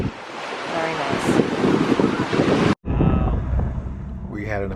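Ocean waves wash and surge continuously against a backdrop of gusting wind, with a brief cut midway and a faint voice in the background.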